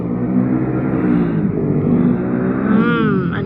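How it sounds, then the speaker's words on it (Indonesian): A motorcycle passes by outside, a steady broadband motor drone with a rising whine near the end, heard alone without talk. "ada suara motor"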